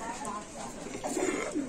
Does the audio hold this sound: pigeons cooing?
yes